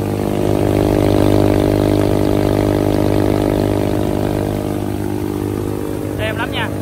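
An Isuzu 93 turbo engine runs steadily on a boat, heard up close as a loud, continuous droning hum with a strong low rumble and no pauses, while someone speaks over it.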